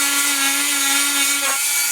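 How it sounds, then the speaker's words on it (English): A Dremel rotary tool trims a plastic part of a kids' bed frame, giving a steady, close, high-pitched whine that wavers briefly as the bit bites in near the end. "I cleaned up with a Dremel tool"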